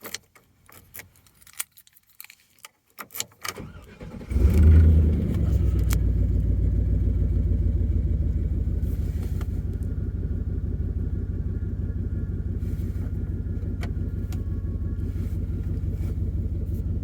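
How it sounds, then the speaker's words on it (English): Keys jangle, then a 2004 Chevrolet Silverado 2500 4x4 work truck starts and settles into a steady, deep, rumbling idle, close and continuous, with no talk. "have another listen to that engine"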